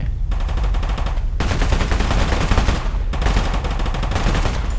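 Rapid sustained gunfire in Totally Accurate Battlegrounds, dense continuous bursts of shots running loud and close throughout.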